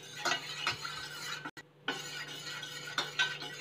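A spoon works through an arrowroot powder mixture in a pan, making quiet, repeated scraping strokes about every half second, with a brief pause midway.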